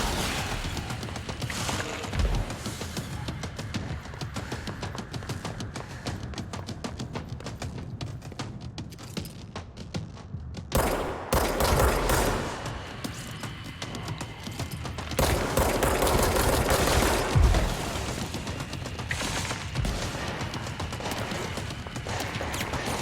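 Sustained rapid gunfire in the action video game Control, busy and continuous throughout with denser, louder bursts midway and near the end, a dense mix of shots and impacts with no talking.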